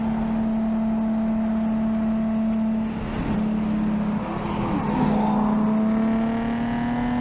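A modified Nissan 370Z on a race track during a cooling-down lap gives off a steady droning engine tone that dips briefly midway, then holds again, close and continuous with no talking.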